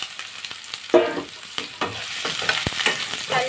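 Ginger and onion fry in a pan while being stirred, the sizzle broken by several scraping strokes and a sharp clack of the utensil against the pan, close and fairly loud.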